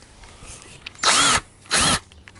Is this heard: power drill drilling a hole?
yes